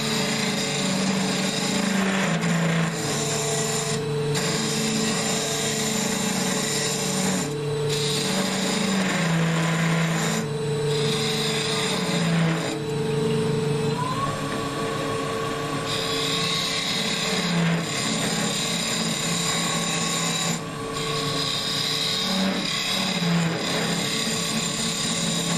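A wood lathe turns an end grain goblet, humming steadily with the scraping whir of a gouge cutting, close and continuous with brief pauses and shifts in tone.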